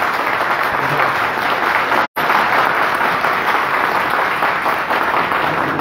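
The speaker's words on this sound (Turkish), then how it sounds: "Çok büyük alkış istiyorum." Loud continuous applause from the audience at a breakfast gathering of a Zonguldak hometown association in Küçükçekmece, many hands clapping steadily throughout with one abrupt brief dropout.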